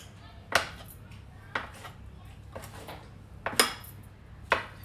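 A knife or cutter pressing down through rolled-out ka'ak dough on a board, five separate sharp cuts spaced about a second apart, close and fairly clear over a quiet room hum.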